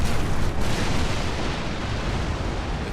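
Ship cannon broadsides in a Napoleon Total War multiplayer naval battle, a dense, continuous rumbling roar of overlapping booms with no distinct individual shots, loud and unbroken.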